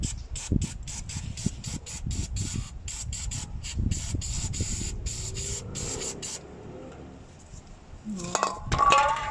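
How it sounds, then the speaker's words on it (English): Repeated short hissing bursts of degreaser spray in quick succession on a Jeep Wrangler differential, with some rubbing and clinking of metal parts underneath. "I just spray a little bit of degreaser on there just to clean it up a bit"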